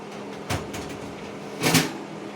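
A casserole dish is set into a home oven and the door pushed shut, giving two separate muffled knocks about a second apart, close by and otherwise quiet.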